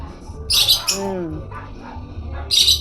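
A lovebird squawks sharply near the start and again at the end, with a voice speaking softly in between.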